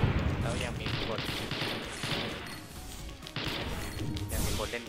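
Rapid gunfire in the shooter game XSHOT's ghost mode, repeated bursts of sharp shots cracking one after another, close and loud, with a voice talking over the action.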